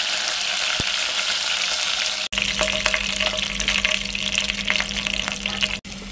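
Curry leaves and mustard seeds fry in hot oil with a loud, dense, continuous sizzle and crackle, close by, briefly cutting out twice.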